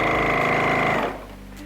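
Sewing machine stitching fabric for a face mask with ties, a loud rapid whirring run for about a second that then stops, leaving a quieter hum.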